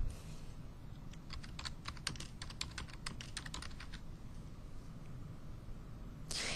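Fingers tap on a computer keyboard in an irregular burst of clicks over low background hum, then fall quiet, with one last brief noise at the end.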